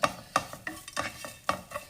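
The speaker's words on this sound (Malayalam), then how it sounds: "അതിലേക്ക് തേങ്ങ ഇട്ടൊന്ന് ചൂടാക്കിയെടുക്കാം." Grated coconut and black pepper being dry-heated and stirred in a pan for a mango fish curry, with repeated scraping strokes and a faint sizzle, close and clear with no talk.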